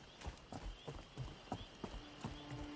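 Electrified horse hooves from Elder Scrolls Online clop in a steady rhythmic gait, close and moderately loud, with a faint electric hum running beneath them.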